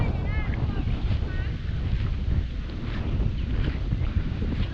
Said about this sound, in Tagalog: Malamig na hangin sa gabing maulan.